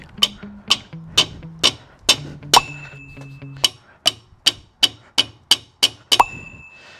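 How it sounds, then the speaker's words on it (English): A hammer drives a snug rubber bush into a Land Rover part with a series of about fifteen sharp metallic blows. They come at a steady, moderate pace, some with a brief ringing tone. "attempted to hammer in the first half of the bush"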